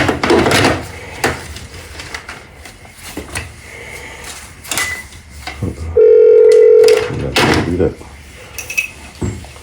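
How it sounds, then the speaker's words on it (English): A button on a church telephone is pressed by accident, setting off a steady dial tone for nearly two seconds amid scattered knocks, wiping sounds and bits of talk during a cleaning job. "accidentally pressed the button on the phone"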